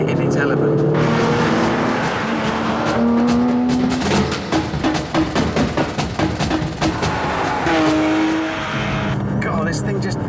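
A car engine revs hard while driving on a road trip, rising and falling through gear changes with a rapid pulsing growl, and someone talks over it.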